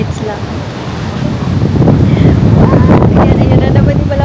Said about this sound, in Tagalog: Ayan na naman yung malakas na hangin.